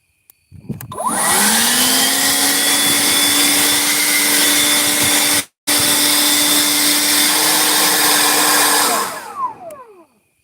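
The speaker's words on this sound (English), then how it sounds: "That's my 40-volt Haichika blower, 130 mile an hour supposedly." A 40-volt cordless Haichika leaf blower powered by two 20-volt batteries winds up and runs at a loud, steady whine. The airflow cuts out for a moment near the middle, then resumes and spins down at the end.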